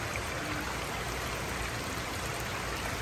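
Strong rushing water pours and washes away sand, a dense, steady broadband flow heard close and alone, with no voices.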